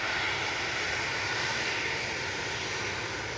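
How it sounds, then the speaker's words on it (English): An easyJet Airbus A320-200 bound for Amsterdam takes off at Manchester, its jet engines giving a steady, broad roar at moderate distance with no voices. "EasyJet off to Amsterdam there, GEZ UF A320-200"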